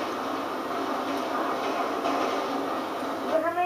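Rumbling rail noise from a train in Grand Theft Auto 5 Online, a steady broad roar running throughout with a brief rising squeal near the end, carrying under faint talk.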